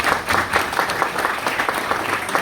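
Audience applause at an engineering physics panel event, a full round of many hands clapping in a lively, slightly uneven rhythm, fairly close and continuous.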